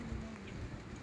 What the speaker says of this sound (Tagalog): Yun o, lakas ng ulan.